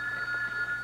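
A telephone rings in a quiet room, a steady electronic bell tone holding through a short burst, moderately close, with no talking.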